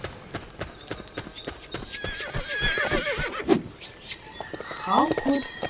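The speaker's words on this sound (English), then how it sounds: "Oh, I think I will use that horse." Horse hooves clip-clop in a Lego City Undercover video game, a quick, regular trot of sharp knocks, followed by a whinny and bird and rooster calls in the background.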